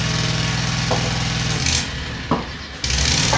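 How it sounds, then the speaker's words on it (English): An outdoor lawnmower engine runs continuously, loud and droning, with a couple of brief shifts in pitch and load, heard during a woodworking session on a spice rack. "can you hear me okay over the lawnmower"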